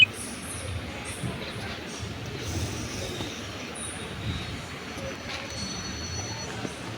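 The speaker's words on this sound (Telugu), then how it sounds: "అరే ఇక్కడ ట్రైన్ వస్తుంది" A train pulls in along railway tracks, its wheels squealing in high, shrill bursts over a low, steady rolling rumble that stays moderately loud throughout.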